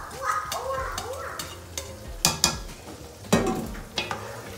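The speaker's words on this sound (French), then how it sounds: "Je renverse aussi dans ma casserole." Marinated chicken with parsley, garlic, pepper and mustard poured into a hot cooking pot, crackling and sizzling with several sharp splashes and clinks of the pot, fairly close and with no talking.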